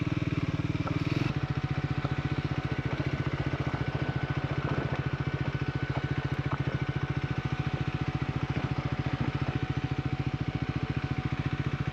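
Triumph Scrambler 400X motorcycle engine while riding, a steady, close, evenly pulsing drone with a brief burst of wind noise at the start.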